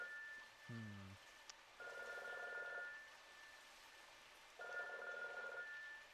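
A telephone rings from a floor below in the video game Robotics;Notes Elite, with two faint, distant bursts of ringing over a soft rain-like hiss and a brief electronic tone near the start.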